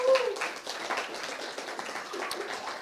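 An audience at a live music gathering gives a short round of applause, a steady moderate patter of clapping throughout.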